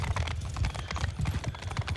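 Cavalry horses gallop in the Bannerlord video game, a dense rapid clatter of many hooves pounding continuously and loudly throughout, with no talk.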